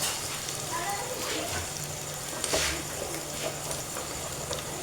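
Onions and tomato fry for a chickpea and paneer curry, a steady close sizzle that runs the whole time with occasional stirring scrapes, while a person talks over it.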